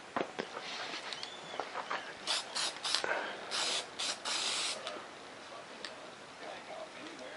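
Aerosol spray paint hisses in several short bursts onto black foam board during the build of an F1-17 stealth fighter model. The bursts come close and moderately loud, with brief pauses between them.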